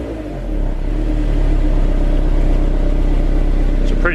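A Honda S2000 engine with a modified UK exhaust blips and revs, a steady low rumbling drone that swells after a half-second and holds loud and close to the end.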